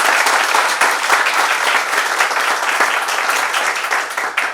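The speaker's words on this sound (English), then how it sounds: "I think he deserves a huge round of applause" A large audience gives a sustained, loud round of applause for Dr. Niranjan Hiranandani, steady dense clapping throughout with no talk over it.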